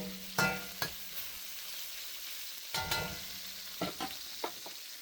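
Chicken fries in a carbon steel wok with a steady sizzle, broken by several sharp clanks and scrapes of a spatula against the metal at irregular moments; no one speaks.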